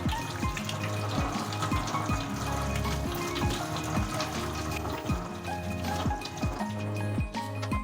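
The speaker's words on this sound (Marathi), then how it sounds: "गरम पाणी, त्याच्यावरती गार पाणी घालायचं, म्हणजे त्याची शिजण्याची प्रक्रिया थांबते." Cold water pours over freshly boiled Hakka noodles in a home kitchen, a steady close splashing gush that runs throughout, with repeated faint knocks from the pot or strainer beneath it.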